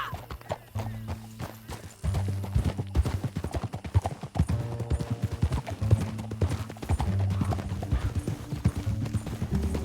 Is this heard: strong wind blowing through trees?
no